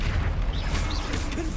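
A Bombarda spell explosion in Hogwarts Legacy bursts with a deep, rumbling boom, loud and close, filling a brief moment of heavy low-end impact.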